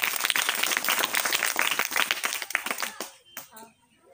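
Children in a classroom clap together in a fast, dense burst that fades out after about three seconds, leaving a few faint scattered claps and quiet murmuring.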